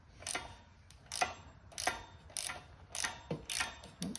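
Ratchet wrench loosening the bolts of a front rack on a Honda Trail CT125 motorcycle, heard as quick bursts of close, sharp ratcheting clicks repeating every half second or so, with no talking.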